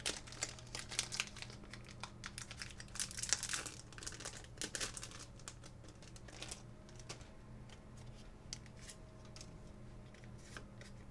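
Crinkly plastic of a Pokémon trading card booster pack wrapper being torn open and handled, soft, close crackles and rustles in quick irregular bursts over a quiet background.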